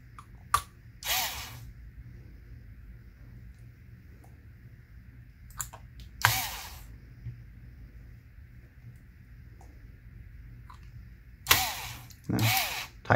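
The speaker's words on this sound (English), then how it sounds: "So I'm just going to get each of the screws started." Screws being started and tightened by hand into a laptop's underside panel with a screwdriver: small scattered clicks and short rasping ratchet-like bursts, close and quiet, over a low steady background hum.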